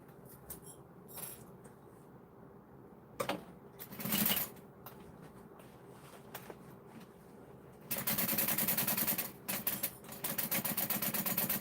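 A sewing machine stitches a tote bag, with short bursts and handling clicks early on, then a loud sustained whirring run of stitching over the last few seconds.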